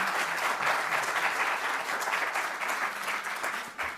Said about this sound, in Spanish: ¿Qué le parece si le damos un aplauso a Mario por su participación?